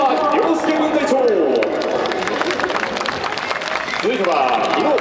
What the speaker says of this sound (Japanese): それではもう一度大きな拍手お送りください。